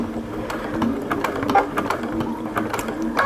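A sewing machine stitches across the end of a binding strip on an oven mitt made from a towel, giving a steady mechanical whir with regular needle clicks throughout, close and fairly loud with no talking.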